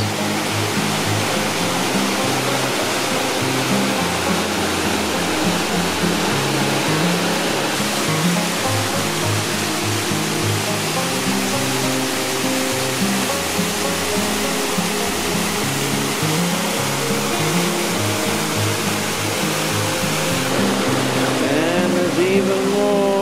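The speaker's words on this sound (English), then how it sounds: "Even more pretty," Steady rushing of a waterfall and clear flowing water along a rocky canyon hike at Sundance Canyon in Banff, a continuous broadband roar that holds even throughout with no talk.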